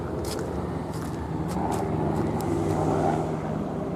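A white and black unmarked helicopter passes overhead above a street, its engine and rotor noise a steady, loud drone throughout with traffic-like rumble mixed in.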